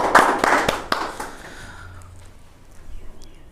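A church congregation at a midweek service claps in a few sharp, loud beats. The clapping quickly thins and fades to quiet room noise.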